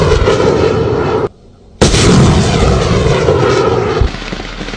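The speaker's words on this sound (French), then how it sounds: "comme ici avec ce multilanceur de roquettes communément appelé Orgue de Staline" A multiple rocket launcher, known as a Stalin's Organ, fires during military operations in Burkina Faso. It makes a loud, sustained roaring rush that cuts out for about half a second, then resumes and fades slightly toward the end.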